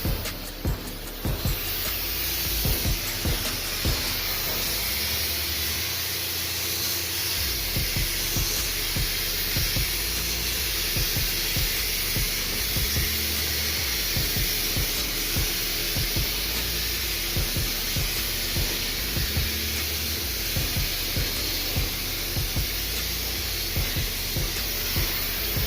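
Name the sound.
spray gun shooting red paint on a car panel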